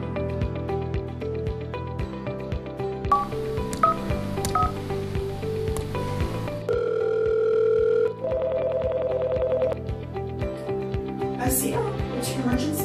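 A sequence of telephone keypad tones and a steady dial tone sounding over background music, each beep short and electronic.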